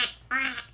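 A voice imitates a duck's quack, giving one brief nasal call followed by a longer, louder drawn-out quack, close up and with no other sound.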